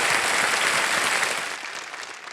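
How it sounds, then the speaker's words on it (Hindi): Brief burst of studio audience applause welcoming guests on the KBC quiz show, dense even clapping that tapers off over about two seconds. "तालियों के साथ आपका स्वागत करते हैं।"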